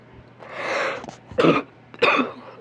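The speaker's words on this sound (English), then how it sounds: "Oh, got a cough." Throat clearing followed by two short coughs, close and fairly loud, with no talk.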